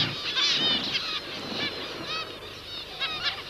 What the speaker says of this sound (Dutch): De watertank wordt belegerd door tientallen dorstige vogels.